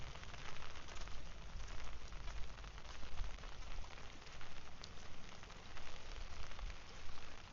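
Steady rain falls at Bangwad Reservoir in Phuket, a dense, continuous hiss of drops on surfaces that stays even and moderately loud throughout, with no voices.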